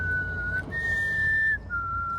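A steady, clear whistle holds one pitch, breaks briefly, then resumes slightly lower, sounding close and fairly loud over a low background rumble.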